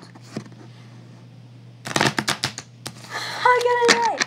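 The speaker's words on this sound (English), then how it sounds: "Now shuffle the cards" Playing cards shuffled during a casual card trick session, a quick burst of crisp riffling clicks and flutters after a quiet start, followed by voices talking over the end.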